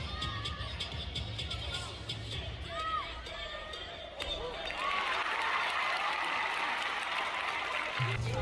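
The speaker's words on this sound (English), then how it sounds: "Listen to the crowd." Crowd noise at a gymnastics competition, the US Classic, swelling into louder sustained cheering and applause from about the midpoint, with shouts rising over a dense, steady roar.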